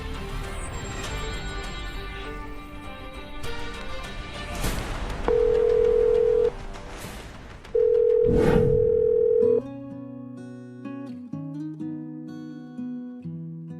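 Two long, steady telephone tones sound a few seconds apart during an outgoing call, each lasting a second or two, over a bed of background music.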